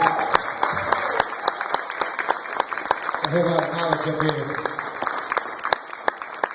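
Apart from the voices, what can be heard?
audience clapping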